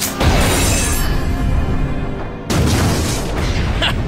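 A rocket-propelled grenade blast shatters a giant cliff face, giving a loud, dense roaring boom followed by a second heavy burst of crumbling rock, close and overwhelming.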